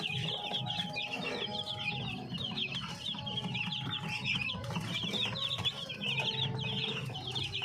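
Chicks and a hen in a hatching pen make dense, continuous peeping and clucking throughout. It is close, steady and busy, with no talking.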